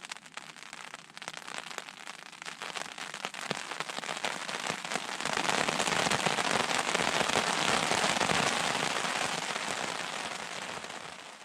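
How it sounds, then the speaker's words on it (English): Light rain patters steadily at a lookout campsite, a soft crackling hiss that thickens toward the middle and then eases slightly, with no voices. "A little bit of rain."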